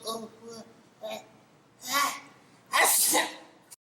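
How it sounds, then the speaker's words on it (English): A person sneezes once loudly at close range near the end, following a short gasping intake, with a few voiced murmurs and breaths before it. "That was a real sneeze"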